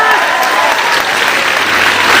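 An audience at a sales training session in Patna claps loudly and continuously, a dense wash of applause throughout.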